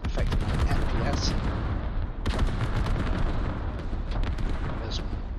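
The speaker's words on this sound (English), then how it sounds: "There's that artillery. And it is a creeping barrage there." Continuous rumbling artillery creeping barrage in a military shooter game, dense booming explosions rolling nonstop with sharp blasts on top, loud and steady throughout.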